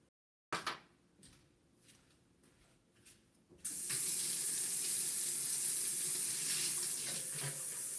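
A kitchen tap runs to fill water for boiling. A few clunks and clatters come first, then a loud, steady rush of water that continues close by to the end.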